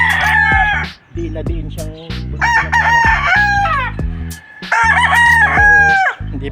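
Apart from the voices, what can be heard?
gamefowl roosters crowing at chicken farm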